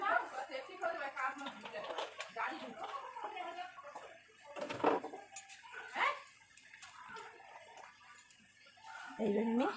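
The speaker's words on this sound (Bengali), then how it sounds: "এই ধনে পাতাটা ভালো করে ধুয়ে নিলাম" Fresh coriander leaves are rinsed in water in a home kitchen while cooking a Bengali fish curry, with soft irregular splashing and sloshing as someone speaks over it.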